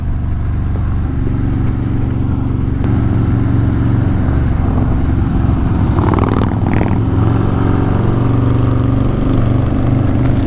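A Harley-Davidson Stage 4 performance bagger motorcycle under way, pulling from a high gear: a loud, steady, deep engine drone that builds in intensity, with a brief rising rev in the middle.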